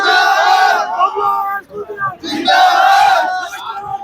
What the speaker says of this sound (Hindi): उत्साह देखिए लोगों का, देखिए सभी बाबूलाल कुलदीप का स्वागत कर रहे हैं।